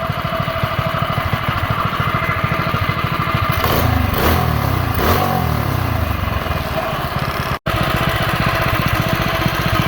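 A small mini bike engine runs loud and close, rising and falling through a couple of throttle revs over a rough, buzzing idle.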